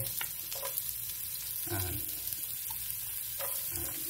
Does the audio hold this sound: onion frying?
yes